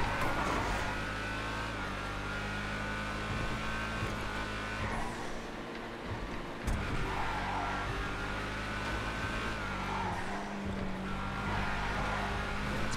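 Hustler car in GTA FiveM racing with a steady, loud engine drone and revving swells throughout, a continuous roar with no talk over it.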